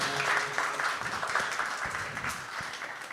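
Audience applause at a Black voices panel on content production, a steady wash of clapping from a crowd that holds evenly for a few seconds with no one speaking over it.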